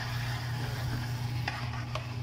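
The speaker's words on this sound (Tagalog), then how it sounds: "At ang ating gulay na patatas at carrots. Halo." Potatoes and carrots are stirred into chicken afritada in a pan, a continuous soft sizzle with a couple of brief scraping clinks of the utensil against the pan, close and steady.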